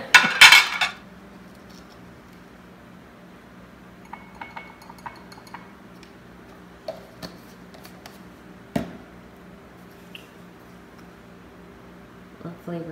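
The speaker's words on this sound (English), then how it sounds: "when Jay put the dishes away" Dishes and cutlery are put away in a home kitchen: a loud clatter at the start, then scattered quieter clinks and knocks across a mostly quiet stretch, with a sharp clank near the end.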